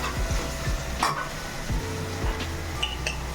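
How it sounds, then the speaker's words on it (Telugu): Manchurian gravy frying with soy sauce in a pan, a steady low sizzle under occasional spoon stirring and light clinks against the pan, close and moderately quiet. "ఇలా సోయా సాస్ వేసుకొని కొంచెం దగ్గర కంటే ఒక 5 నిమిషాలు ఫ్రై చేసుకోండి."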